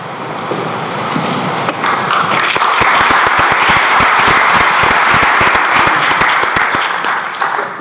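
Audience applause at a conference session on severe weather challenges facing New York State, starting after a brief pause and swelling into loud, dense, steady clapping that holds for several seconds before thinning slightly at the end.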